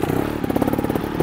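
A trials motorcycle climbs a rock on its skid plate while the rider slips the clutch and blips the throttle, a short, close, pulsing engine burst with some clatter, lasting just over a second.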